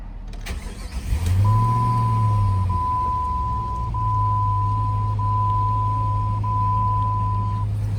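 A 2004 Jeep Grand Cherokee Special Edition V8 engine cranks briefly and catches, then settles into a steady idle while a high warning chime tone sounds continuously.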